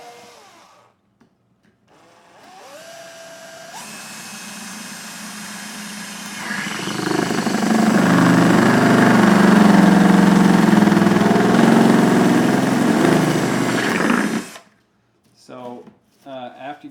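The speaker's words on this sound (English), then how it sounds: "drill a few holes at the bottom, because that's where the plastic is thickest" A power drill winds up and runs continuously for several seconds, loud and close, grinding as it bores holes through the thick plastic base of a globe, then stops abruptly.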